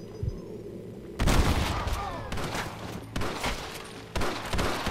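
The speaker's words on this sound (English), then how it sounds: "Who the hell's shooting me?" Gunfire in Red Dead Redemption rings out in loud, sharp bursts, several shots cracking in quick succession with brief pauses between volleys, close and forceful over faint background sound.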